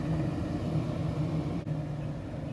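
An RV roof vent fan runs at full speed with a steady, low droning whir and a faint hum, continuous and fairly quiet, close by with no talking.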